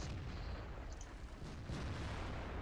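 Heavy tank cannon fire in World of Tanks booms with a deep, rumbling low-end roar that stays dense and continuous, as distant battle noise fills the space.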